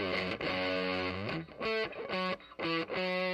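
A guitar played through a fuzz pedal gives thick, saturated, buzzy chords, a sustained note followed by several short choppy stabs with brief gaps between them, loud and close.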